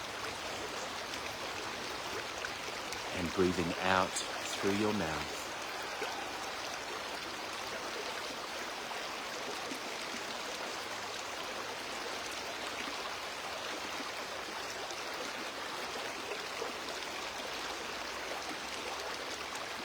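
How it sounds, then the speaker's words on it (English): A river flows in a continuous soft rush, steady and moderately distant, while a calm voice speaks briefly near the start. "And just listening to the sound of the river"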